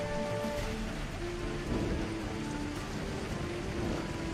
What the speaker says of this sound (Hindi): जोर की बारिश होने लगती है